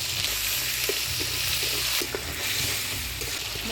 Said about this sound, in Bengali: মশলা থেকে তেল ছেড়ে দিচ্ছে মশলাটা ভালো করে কষিয়ে নিলাম